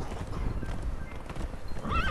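Horses galloping in a multiplayer video game, a dense, continuous run of hoofbeats with whinnies and neighs, loud and close, ending in a rising whinny.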